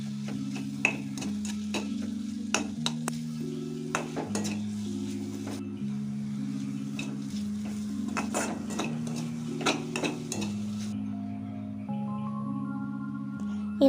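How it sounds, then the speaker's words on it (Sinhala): A spatula scrapes and taps against a pan again and again while egg is stirred through vegetables, giving a steady rhythm of close metallic clicks over a faint sizzle. Background music plays underneath. "දැන් බිත්තර මේ ටික සෙට් වෙනකොටම කවලම් කරගෙන මේ එළවලු වලටම බිත්තරය හොඳට එකතු කරගන්නවා"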